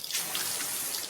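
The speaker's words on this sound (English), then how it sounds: "When this is the sound of a waterfall in nature," A natural waterfall, a continuous broadband rush of falling water, steady and fairly loud throughout with no talk.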